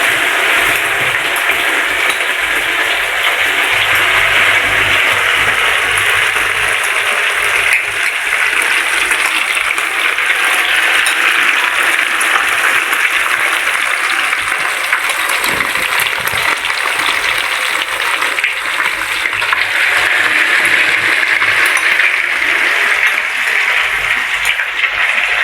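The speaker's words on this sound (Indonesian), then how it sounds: "Sekarang kita goreng tahunya ya Bun," Egg-coated tofu frying in a wok, giving a loud, steady, continuous sizzling hiss with no talk over it.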